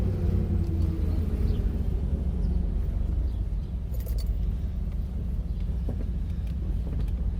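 Interior engine drone of a Triumph Stag being driven after clutch master cylinder work, a steady low rumble with a slight shift in pitch as it goes into third gear, no talking.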